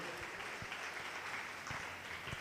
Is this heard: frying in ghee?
no